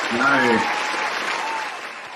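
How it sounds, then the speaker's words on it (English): A studio crowd at a Halloween-themed live show claps and cheers for a new intro, a brief burst of applause and excited voices that swells and then tapers off. "Oh, man, listen to that crowd. They are fired up about that new intro."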